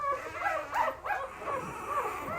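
A week-old puppy held up in a kennel whimpers with thin, rising and falling cries, close and fairly soft, over a faint background hiss.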